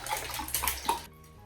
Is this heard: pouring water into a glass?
yes